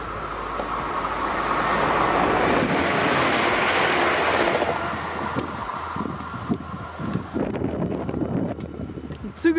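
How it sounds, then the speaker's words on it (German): A passing train on the left Rhine railway line leaves a strong gust of wind, a loud rushing roar that swells and then fades, with people talking over it toward the end. "Die Züge hinterlassen immer so einen schönen Windstoß."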